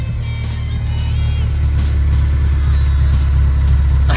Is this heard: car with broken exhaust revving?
yes